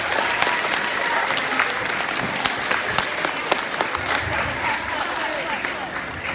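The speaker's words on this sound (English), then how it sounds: "Let's give Ethan another round of applause." An audience applauds after a school speech, with dense sustained clapping and sharp individual claps throughout, steady and fairly close.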